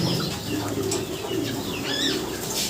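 Racing pigeons coo and flap their wings in a loft, soft throaty coos mixed with bursts of wingbeats and occasional chirps close by.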